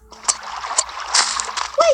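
In the video game Blockman Go, characters splash into water in several close bursts. Voices talk and shout in between.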